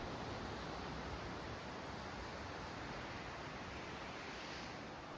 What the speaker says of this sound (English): As you look at the ocean, you notice how it is open and alive with quiet presence.